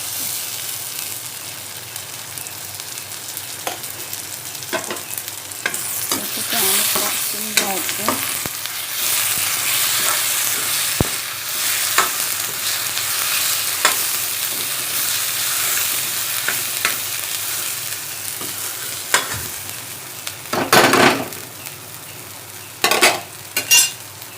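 Homemade masala paste with sprouted cashews fries and sizzles in a pan while being stirred, a close, steady hiss broken by scraping stir strokes and a few sharp knocks near the end.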